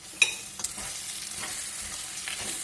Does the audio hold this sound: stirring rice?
yes